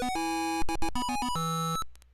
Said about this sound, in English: Do all Atari games sound like this?